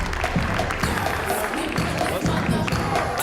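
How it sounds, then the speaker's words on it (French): A crowd at a show in Aubervilliers applauds a performer with dense, steady clapping throughout, with scattered cheers and voices mixed in. "Applaudissez-la bien fort"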